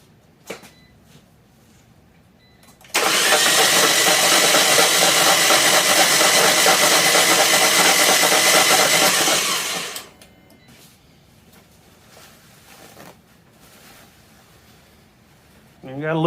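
A 2012 Fiat 500 engine being cranked after an engine swap gives a loud, steady whirring crank that holds for about seven seconds and then cuts off, with quiet room sound before and after.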